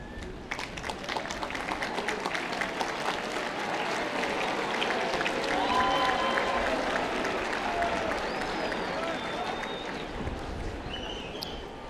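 Graduating students at a university convocation ceremony give their parents a sustained round of applause, a broad, steady wash of many hands clapping in a large hall, with a few faint voices scattered through the crowd.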